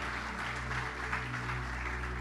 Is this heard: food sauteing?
no